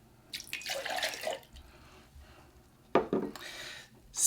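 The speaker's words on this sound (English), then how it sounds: "You're going to put in your 1 cup of water" A cup of water poured into a liquid measuring cup already holding two eggs, heard as a few short splashy pours and drips, fairly quiet, with pauses between bursts.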